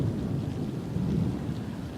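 Deep, steady rumble of monsoon thunder rolling continuously beneath a wash of rain, with no voices.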